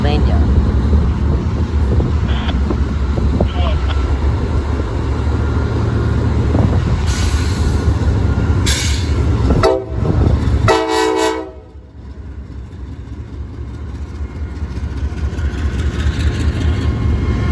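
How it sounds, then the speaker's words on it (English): A Norfolk Southern crude oil freight train, NS-67E, rumbles past loudly with a heavy continuous roar, and its horn sounds in a few short blasts partway through before the noise briefly dips and builds again. "It was NS-67E, a crude oil train out of Chicago, Illinois to Eddystone, Pennsylvania."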